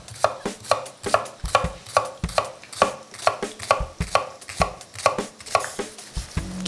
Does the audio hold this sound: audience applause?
no